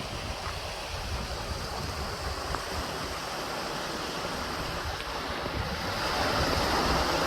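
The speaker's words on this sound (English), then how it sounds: "It's kinda windy right now." Steady wind gusting outdoors on a nature trail beside water in Madera Canyon, a continuous broadband rush that swells louder near the end, with a surf-like wash throughout and no talking.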